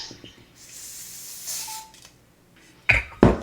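Brief hiss of hair spray from a can spritzed onto a forehead during a glueless wig install, a short soft spray burst, then a couple of louder handling thumps.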